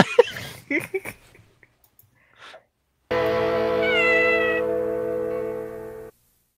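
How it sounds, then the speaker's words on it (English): A single drawn-out cat meow rings out clearly for about three seconds, after brief speech-like sounds and a pause. "We do have a meow."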